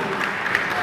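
Brief burst of audience applause at a campus student-activity anniversary event, dense clapping blended with crowd murmur and some voices.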